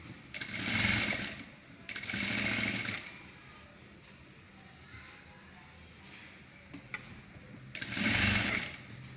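Sewing machine stitching the curved neckline of a high-neck blouse, three separate bursts of rapid mechanical whirring at close range, with quiet pauses between runs.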